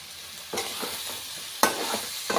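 Chicken sautés in a pan with coriander, turmeric and garam masala, giving a low sizzle. Two sharp bursts of stirring and scraping rise above it, close and brief, with no voices.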